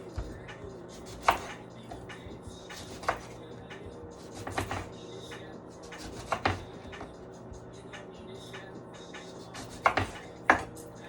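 A knife cuts through citrus fruit on a board, leaving scattered soft taps and thuds at an irregular pace, fairly quiet, over a low steady background hum.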